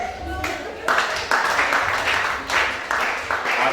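Congregation at a prayer vigil in Gabon clapping and cheering, waves of applause surging in repeated bursts over a loud preacher's voice.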